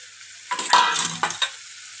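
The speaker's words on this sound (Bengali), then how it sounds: "ভালোভাবে আর কিছুক্ষণ কষিয়ে নিতে হবে।" Taro and dried lota fish are stirred in a hot pan. A few scraping strokes sound over a soft, steady sizzle, close and alone.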